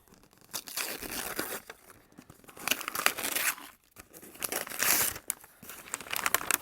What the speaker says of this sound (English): All right, wrapping paper off.